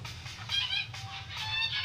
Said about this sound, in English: Is that a goose army?